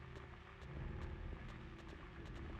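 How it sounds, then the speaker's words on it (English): Static crackle with heavy, regular footsteps in the survival horror game Silent Hill 2, a steady run of thudding steps under a hissing noise bed, fairly quiet overall. "Static, and you can also hear footsteps."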